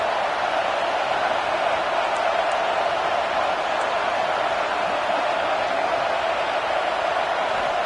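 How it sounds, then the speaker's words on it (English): A huge stadium crowd at a Florida State football game roars on a defensive third down, a constant, loud wash of noise with no breaks. "Decibels rising as the crowd gets behind this defense on 3rd down."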